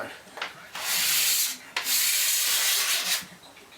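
Sandpaper rubs across a filled veneer repair on wood in a few long, loud scratchy strokes with short pauses between them, close up and with no talking.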